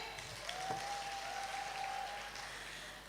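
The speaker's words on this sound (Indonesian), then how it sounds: "Tepuk tangan juga dong untuk Pak Wali ya" Audience applause at a government anti-online-gambling event in Medan, Indonesia, with a minister and the city's mayor present, a steady broadband clatter of clapping filling the room with a faint whistle-like tone briefly riding over it.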